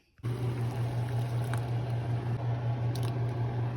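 Peeled potatoes are rinsed under running water in a home kitchen, a steady loud splashing rush starting abruptly and continuing without pause over a low hum.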